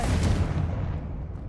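The Confringo blasting spell in Hogwarts Legacy going off as a short, loud, broad explosive boom that decays into a rumbling tail.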